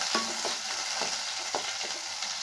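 Onion, curry leaves and garlic sautéing in a pan, a soft, steady sizzle with a few light scrapes of stirring, faint and close with no voices.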